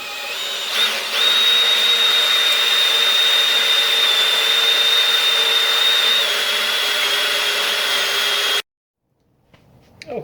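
A power tool cuts threads on parts for a Type 4 engine conversion, giving a steady, loud, high-pitched whine with a sustained tonal edge for about eight seconds. It then stops abruptly, leaving near silence and a few faint clicks.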